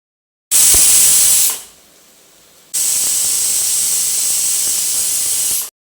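A pressure cooker with stew inside whistles in two loud, sharp blasts of steam, a short lull falling between them.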